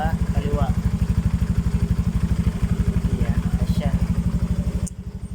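A Yamaha Mio M3 scooter idling up close, a loud, fast, regular engine putter with a slight clatter, holding steady before dropping to a softer idle near the end.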